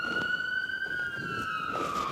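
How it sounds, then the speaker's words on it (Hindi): A police car siren wails steadily with a long, slowly falling tone, loud and close throughout, with no talking over it. "पुलिस, ये पुलिस आ गई।"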